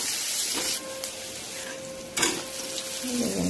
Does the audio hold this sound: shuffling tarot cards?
no